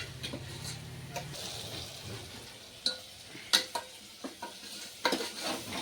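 Semolina and turmeric fry in oil while a spoon scrapes and stirs through them, giving a steady soft sizzle with scattered louder clinks and scrapes against the pan near the end, close by with no voices.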